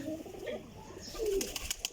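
Champion racing pigeons, damp from light rain, coo in soft throaty rolls close by, with a few sharper bursts toward the end.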